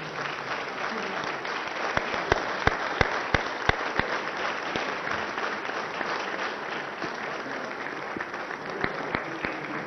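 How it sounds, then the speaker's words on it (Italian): Press conference audience in Matera applauding the Dalai Lama as he greets them, a sustained wash of clapping with sharp camera-like clicks scattered through it, and faint voices underneath. "Il Dalai saluta i presenti e scatta l'applauso."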